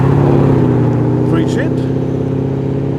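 A Holden Commodore rolls in at a car show with a loud, steady engine rumble close by, while a voice talks over it.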